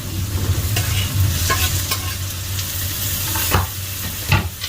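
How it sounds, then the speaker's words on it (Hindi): Chopped tomatoes, about four of them, go into a mutton karahi frying in a pan, with a steady loud sizzle and a few stirring and scraping knocks throughout. "अभी मैं इसमें शामिल करूंगा तकरीबन 4 अदद टमाटो।"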